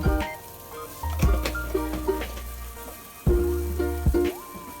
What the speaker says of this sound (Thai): น้ำเดือดนะครับ